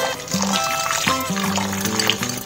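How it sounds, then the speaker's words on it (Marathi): Rice and lentils being washed for dal khichdi give a close, short run of sloshing, trickling water with small splashes as the grains are swirled and rinsed. "आपण आता हे 3 वेळा धुवून घेतलंय।"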